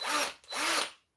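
A Parkside cordless drill whirs in two short bursts, the motor spinning up and winding down twice in quick succession, close and fairly loud with no talk.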